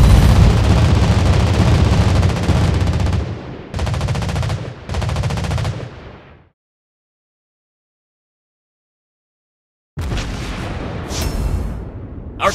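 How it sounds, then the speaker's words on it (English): Anti-aircraft guns in a tournament strategy game fire loud, dense bursts, a long volley then two shorter ones, followed by several seconds of silence before another sharp burst resumes. "Anti-aircraft gun on full alert!"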